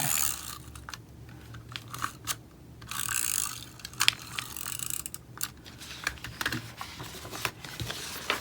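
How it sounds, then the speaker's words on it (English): Decorative washi tape is pulled and pressed onto a planner page, producing soft intermittent peeling rips and small clicks and taps, close and quiet. "And then I'll run tape here."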